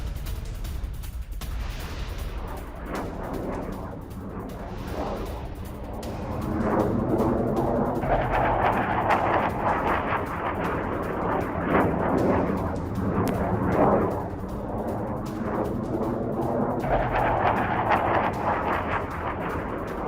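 GBU-39 guided bombs strike targets in a war zone, giving repeated heavy booming blasts and rumbling detonations that swell and overlap for about twenty seconds, loud and without speech.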